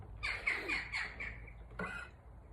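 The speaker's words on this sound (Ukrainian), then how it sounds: "У нас тут пташечки літають, співають" Harsh cawing calls from a crow or similar bird, a quick series of rough squawks, then a pause and one more caw, fairly close.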